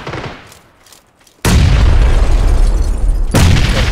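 A loud, close boom from a grenade blast in PUBG erupts after a quieter stretch and rumbles on for about two seconds, followed by a second sharp burst near the end, heavy in low-end energy.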